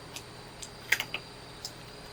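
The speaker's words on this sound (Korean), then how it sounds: "가위로 좀 자를게요." Scissors make a few quick, sharp snips while trimming material in an orchard setting, faint clicks spaced irregularly with a small cluster in the middle, over a quiet background hiss.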